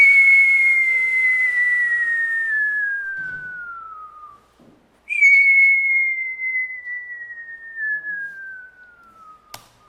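A synthesized whistle tone glides slowly downward in pitch, pauses briefly, then repeats the same falling glide, loud and clean with a slight hiss, made as a sound effect in Audacity software.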